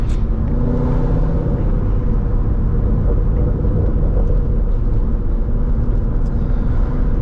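A C6 Corvette Grand Sport drives on back roads, its engine a loud continuous low rumble heard from the cabin, steady throughout without speech.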